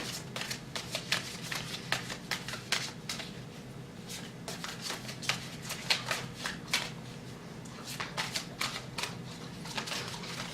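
A large deck of tarot cards is shuffled by hand, giving repeated quick riffling bursts and flicking card slaps in an uneven rhythm, close and fairly clear, with no talk over it.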